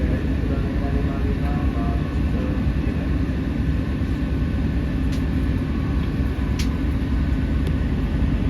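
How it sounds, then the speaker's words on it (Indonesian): A Chinese-built Sifang train pulls in on track 4 at a station, a steady loud rumble of wheels and carriages rolling in with a few brief high squeals, dense and continuous throughout. "Itu yang masuk di jalur 4, kereta yang RRC"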